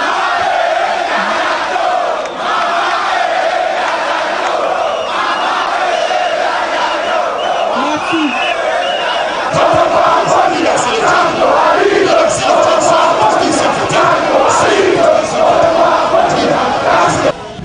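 Thousands of MRC militants and supporters cheer and shout for Maurice Kamto at a political rally in the capital, a dense, sustained crowd roar filling the whole stretch beneath a French-speaking news narrator.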